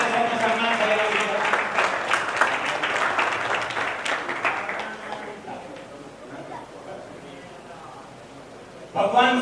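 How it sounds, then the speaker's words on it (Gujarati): A crowd applauds to honour Rajendra sahib at a ceremony, dense hand clapping for several seconds that thins out and fades while someone speaks over it. "આવો સર જોરદાર તાળીઓ સાથે રાજેન્દ્ર સાહેબનું સન્માન થઈ રહ્યું છે."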